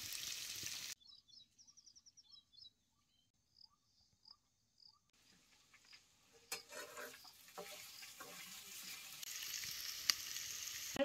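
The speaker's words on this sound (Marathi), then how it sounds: "आता हे सगळं तेलात चांगलं भाजून घ्यायचं. आता हे चिरलेले बटाटे यात घालतो." Chopped potatoes frying in oil, a crackling sizzle that swells in after a quiet stretch of faint chirps and grows into a steady, close, busy frying with occasional stirring scrapes.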